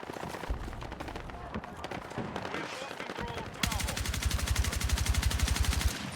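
Rapid automatic rifle fire from a weapon fitted with a vertical grip in a first-person shooter game, first in scattered bursts and then as a loud, steady stream of evenly spaced shots over background game noise.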